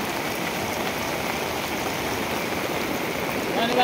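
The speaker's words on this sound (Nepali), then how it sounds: "हेर्दा हेर्दै पानी बढ्यो।" Swollen river floodwater rushing during a heavy downpour, a continuous broad roar of flowing water and rain, close and unbroken, swelling slightly near the end.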